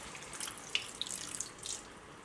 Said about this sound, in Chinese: 接着我们往鱼锅内加半碗的清水煮至